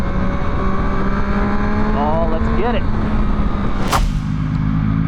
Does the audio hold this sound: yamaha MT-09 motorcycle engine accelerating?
yes